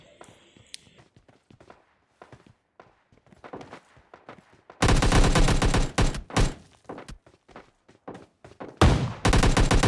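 Gunfire from the PUBG Mobile Lite video game: scattered single shots and taps give way to loud, dense automatic bursts that come and go, with a final close burst near the end.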